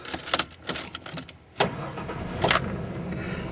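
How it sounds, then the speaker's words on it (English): A truck engine cranks and catches, then settles into a steady, close idle to warm up, with a few scattered knocks and handling noises early on. "So I'm gonna go ahead and let the truck warm up here."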